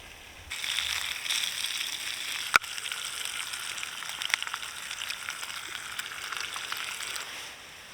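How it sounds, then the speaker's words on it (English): Bacon fries in a pan over a woodland wild-camping fire, giving a continuous bright hiss that starts suddenly and holds steady, with a sharp click and a few faint pops along the way. "Get that bacon in, get it in the pan"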